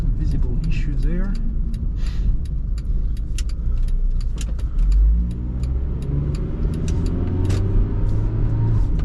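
A 1998 Honda Stepwagon minivan drives along a road in Japan, its engine and tyre noise rolling steadily with rattles and clicks inside the cabin while someone talks over it.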